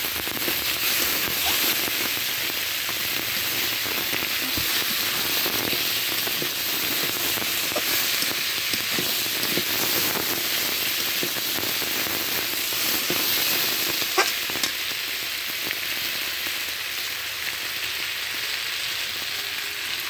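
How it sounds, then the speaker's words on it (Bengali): Soybean chunks frying in a pan with a steady, dense sizzle and hiss, a spatula stirring them now and then with occasional scrapes; loud and continuous, no talking. "ভেজে রাখা সয়াবিন বড়ি দিয়েছি, দিয়ে এবার ভালোভাবে রেখা দিয়ে সয়াবিন বড়ি আমি ভালোভাবে ভেজে নেব।"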